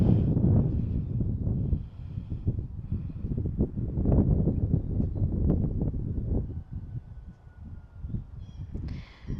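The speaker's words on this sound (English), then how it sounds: "It's windy today." Wind buffets a microphone outdoors during a hip rehab exercise session, a loud, uneven low rumble that gusts and fades across the whole stretch, with faint rustling underneath.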